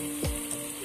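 Ginger garlic paste and fresh chilies sautéing in a pan, a steady close sizzle with a brief scrape of stirring partway through.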